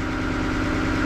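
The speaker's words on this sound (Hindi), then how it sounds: "पहला जो स्टार्टिंग इंजन है, ये स्टार्ट हो चुका है। जैसे कि आप आवाज़ से भी थोड़ा बहुत सुन सकते हैं।" A cruise boat's starting engine runs steadily on the river at Ayodhya, a continuous close mid-to-low engine drone with a constant vibrating hum and no voices.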